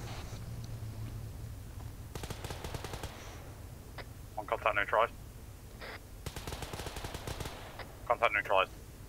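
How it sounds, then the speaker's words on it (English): Arma 3 gunfire comes as several sharp bursts of shots at mid distance, mixed with faint radio chatter and a low background hum. "I'm hearing shots."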